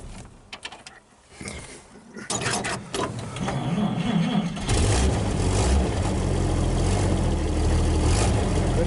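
Engine of a 1929 roadster pickup cranking with scattered clanks and mechanical noise, then catching and settling into a loud, steady low idle that rumbles on to the end.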